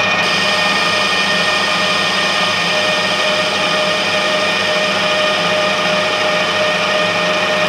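A lathe turns F114 steel while a tool bit takes a 0.5 mm pass, giving a loud, steady machining roar with an even broadband hiss and high whine that holds unchanged from start to finish, with no talk.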